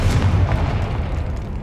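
A Confringo fire spell bursting in the Hogwarts Legacy video game, one loud deep boom that rolls on as a rumbling blast, no talking.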